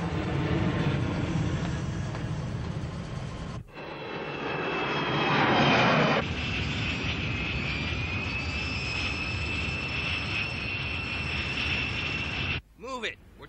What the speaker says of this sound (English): Trying to land an aircraft here.